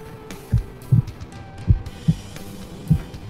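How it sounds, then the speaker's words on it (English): A heartbeat heard through a stethoscope gives soft, low, muffled thumps, about six beats in a slightly uneven rhythm, close and clear over a faint hum, with no talking. "that's my heart beating"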